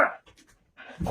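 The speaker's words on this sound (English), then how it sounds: "There's a dog here." Dog panting close by in quick, soft bursts of breath, separated by brief pauses, with a louder rustle at the end and no speech.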